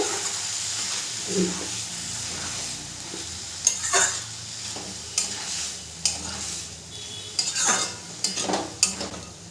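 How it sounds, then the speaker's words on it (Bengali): Chopped banana flower (mocha) for mochar ghonto is stirred in a frying pan over a steady low sizzle, with a spoon making intermittent scraping strokes that grow more frequent in the second half. "মোচাটা দিয়েও খুব ভালো করে মিশিয়ে নেব।"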